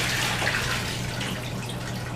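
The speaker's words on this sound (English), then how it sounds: "I'm going to pour the water off of these potatoes." Water from boiled potatoes poured off into a kitchen sink, a steady, close rushing splash that runs unbroken and tapers only slightly.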